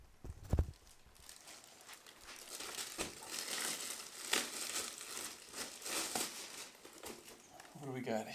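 Plastic packaging around a Jelly Comb cable and accessory travel bag crinkles and rustles close up as it is handled, in bursts throughout, with a few louder knocks early on.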